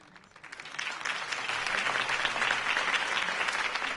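Crowd applause following a political campaign speech in a Batman video game, rising from quiet into sustained, dense clapping that holds steady at a loud level throughout.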